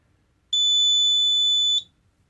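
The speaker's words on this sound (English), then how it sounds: "It did go into fire alarm as it's supposed to do." A Simplex 4005 fire alarm panel goes into alarm after a pull station activation, giving one loud, steady high-pitched electronic tone lasting about a second and a quarter before cutting off, with no voices over it.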